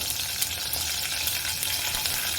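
Dried red chillies fry in hot oil, giving a steady, close, dense sizzle without pause.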